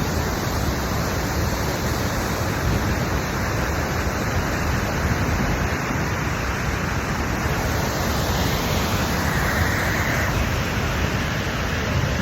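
Manitou Falls waterfall in Canada roars with rushing water, a steady dense broadband wash that stays loud and unchanging from start to finish.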